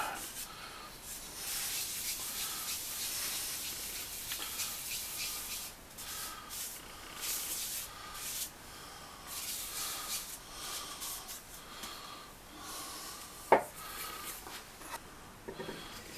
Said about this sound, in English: start the sanding process to get the finish nice and smooth